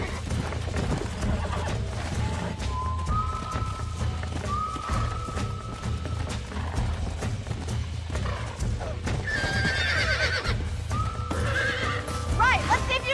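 Horses in Red Dead Redemption on PS3, with several loud whinnies and neighs over steady clip-clopping hooves on a ranch, close and continuous, while speech is heard beneath.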